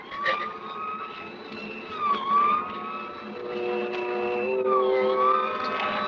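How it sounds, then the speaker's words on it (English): A wailing siren from an old-time suspense radio drama rises and falls in long sweeping tones over a rumbling vehicle engine, steady and moderately loud throughout with no speech. "We both heard the siren then."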